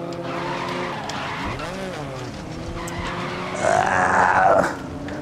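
A hot hatch drifts in the GRID racing game as engine drone runs under a rising tire skid and squeal that swells loud near the end, with someone talking briefly over it.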